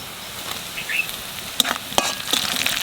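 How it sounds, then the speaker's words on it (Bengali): Onion and green chillies fry in hot oil with cumin, giving a close, continuous crackling sizzle punctuated by a few sharp pops and utensil taps. "পেঁয়াজটা একটু বাজিয়ে নিছি, এখানে কাঁচা লঙ্কা দিয়ে দেবো।"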